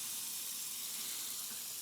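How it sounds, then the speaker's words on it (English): Hot water runs steadily from a kitchen faucet into a sink before washing a cast iron pan, a constant soft hiss and splash that stays even and fairly quiet throughout. "Now I always let the faucet run a little bit and make sure that there's hot water."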